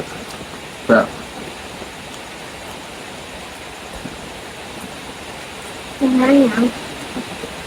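Rain falls in a steady, soft hiss throughout, with two brief, louder vocal-like bursts near the start and toward the end.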